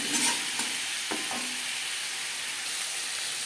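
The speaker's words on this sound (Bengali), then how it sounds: "দিয়ে দেবো হলুদের গুঁড়ো, আর লাগছে স্বাদ মতো লবণ হলুদ আলুর সাথে বেশ ভালো করে মিক্স করে দেবো" Potatoes being stirred with turmeric powder and salt in a frying pan with little oil, a steady soft sizzle with a few scraping spatula taps near the start, close and without talk.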